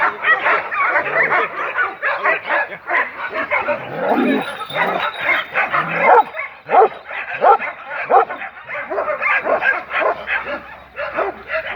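A dog barks and yips rapidly and loudly at close range, a steady flurry of sharp barks with a person's voice mixed in.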